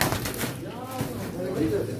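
Pigeons coo softly at a pigeon auction, low rolling calls that run under continuous close chatter from people nearby.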